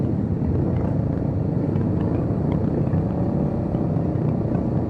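Honda motorcycles at a track day in Makassar, a loud, dense and continuous engine roar from several bikes running together nearby.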